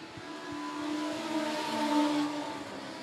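Legends race cars battling in a heat race at Monett Motor Speedway, their engines revving in a steady, high droning whine that rises and falls as the pack circles the oval.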